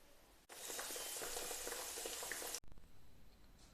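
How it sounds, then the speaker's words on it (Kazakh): Yeast-free baursak dough fries in hot oil, a steady broadband sizzle that starts abruptly, holds loud and close for about two seconds, then cuts off to a quiet background hiss. "Қазір май қызиды, содан кейін оны қуырамын."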